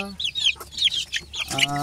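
Chicks peep in quick, high chirps close by as a hen clucks low beneath them.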